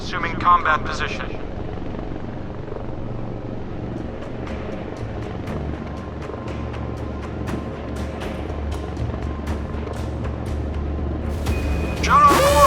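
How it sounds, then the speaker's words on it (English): Helicopter taking off in the naval combat video game Modern Warships, a steady rotor and engine drone with scattered clicks and effects, a brief game voice at the start and a chime near the end. "Helicopter taking off, assuming combat position."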